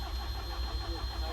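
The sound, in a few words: JS220 engine cranking but not starting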